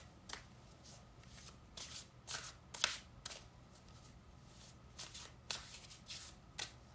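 A deck of Pleiadian Wisdom Oracle cards is shuffled by hand in a series of quick riffling bursts, about ten crisp flutters with short pauses between, close and quiet with no talking.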